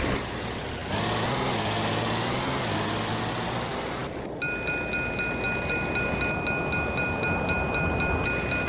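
A train passes in the BeamNG driving game, with a broad engine and wheel roar building up, then a loud, regular clacking rhythm of rail joints under a steady bell-like tone.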